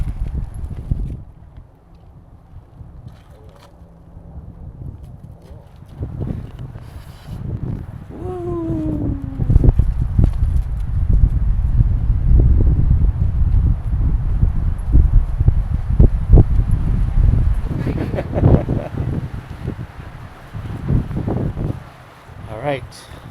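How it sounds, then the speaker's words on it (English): Wind blowing at a canyon rim campground, with low, buffeting gusts that build and stay strong through the middle before easing, rumbling against the microphone while people talk in between. "It's kind of breezy."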